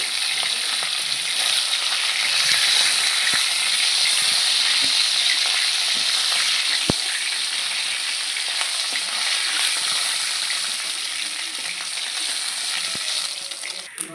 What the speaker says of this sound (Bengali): মাছগুলো লাল করে ভাজা হয়ে গেছে আমি এখন তুলে নিচ্ছি